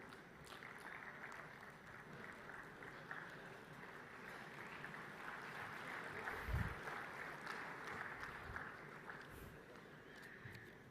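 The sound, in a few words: audience applause for keynote speaker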